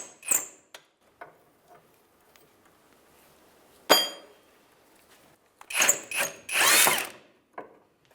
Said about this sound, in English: with an impact and a 14mm on a swivel, we'll come in across the rear sway bar